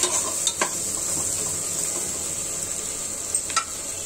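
Spice paste fries with a steady bright sizzle in a pan for a Bangladeshi mixed vegetable dish, punctuated by a few scraping stirs and light clinks of the utensil, close up with no voices.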